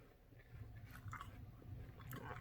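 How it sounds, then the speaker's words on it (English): Crisp crunching as a raw jicama lettuce wrap, with rainbow vegetables and spicy mango dressing, is bitten and chewed up close, a few moist bites and chews in a row with no talking. "You hear that crunch?"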